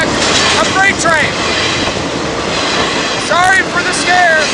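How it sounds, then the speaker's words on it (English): A freight train passes close by with a loud, continuous rail rumble and clatter. Rising tonal blasts, like a horn, cut in twice over the noise. "I'm getting unconfirmed reports that this is, in fact, a freight train."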